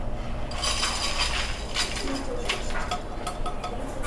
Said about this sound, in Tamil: இப்போ நம்ம வந்து இதை வேறு பாத்திரத்துக்கு மாற்றிக்க போகிறோம்